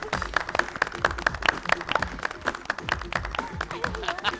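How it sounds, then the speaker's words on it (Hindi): A studio audience on an Indian comedy show claps for a guest being introduced, dense sharp hand claps at a steady rapid pace filling the scene, with voices and a bit of sung melody mixed in underneath. "ताली बजा।"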